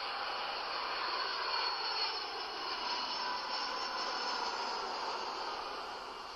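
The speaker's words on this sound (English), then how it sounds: "Saturday morning and another plane lands at London's Luton Airport." A passenger plane landing at London Luton Airport on a Saturday morning, its jet engines giving a loud, steady broadband roar that fades slightly toward the end.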